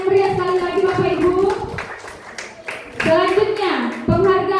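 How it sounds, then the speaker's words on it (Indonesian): Audience applause at a primary school's grade six graduation and farewell ceremony, partly buried under loud, steady voices that carry over the scattered clapping throughout. "Berikan tepuk tangan yang meriah sekali lagi Bapak Ibu."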